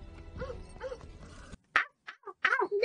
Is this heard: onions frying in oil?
no